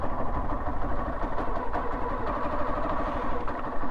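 A motorbike engine idles close by on a village hillside, a steady rough mid-pitched rumble that runs unbroken throughout.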